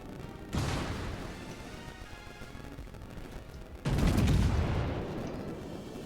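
The battleship Georgia fires a broadside in a naval video game. Two deep, booming salvos arrive a few seconds apart, each hitting loud and then rolling off into a long rumbling decay.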